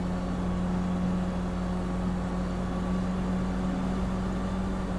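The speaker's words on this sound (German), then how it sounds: "Der Motor hört sich komisch an." A car engine running rough in Grand Theft Auto V Online, a steady low droning hum with a constant tonal buzz, heard loud and unbroken without talk.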